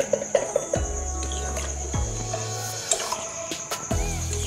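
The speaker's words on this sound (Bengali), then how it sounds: "এবার একটুখানি জল দিয়ে দিচ্ছে" Water poured into a pot of cooking meat in a home kitchen, heard as a soft running splash under a few clinks and knocks of utensils against the pot.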